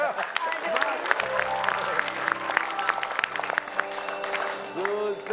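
A studio audience on an Indonesian TV quiz show applauds in a steady wash of clapping, while voices and a musical tone carry on over it.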